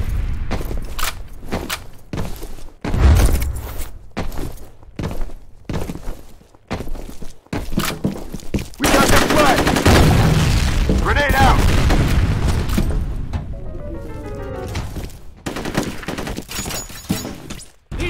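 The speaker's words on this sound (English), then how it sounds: "Grenade out!" Grenade thrown and going off in the shooter F.E.A.R. Combat, amid rapid gunfire bursts and heavy booms; the blast swells into a sustained loud rumble midway, with voices heard throughout.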